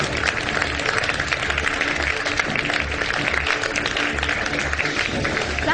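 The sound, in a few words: studio audience applause on a morning show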